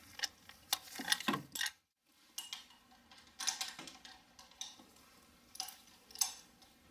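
Ratchet wrench with a swivel extension working a valve cover bolt loose on a 2007 Toyota Highlander Hybrid engine, giving bursts of fast mechanical clicking with short pauses between strokes, close and moderately loud.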